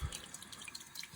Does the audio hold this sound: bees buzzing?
no